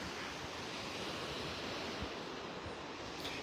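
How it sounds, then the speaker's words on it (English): Steady, soft wind noise across the microphone on a beach in North Naples, Florida, on a light morning breeze, a constant low rush with faint surf blended underneath and nobody speaking. "Might hear a little wind noise."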